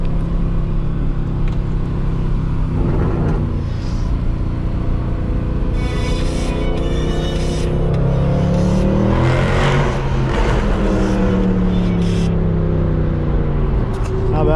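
From inside a Mercedes C63 AMG with its 6.2L V8 on new tires, the engine roars through repeated hard accelerations. The pitch rises, drops at each gear change, and climbs again, loud and close.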